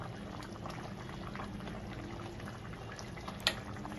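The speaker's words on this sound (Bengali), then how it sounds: "নামানোর আগে একটু কাঁচা সর্ষের তেল দিয়ে নিচ্ছি" Simmering hilsa fish curry in mustard sauce with a splash of raw mustard oil added, heard as a soft continuous bubbling and gurgle with a brief sharp splash near the end, with no talk.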